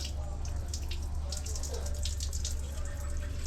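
Turkey necks being rinsed under a running tap make a faint, steady splashing wash of water over a low constant hum.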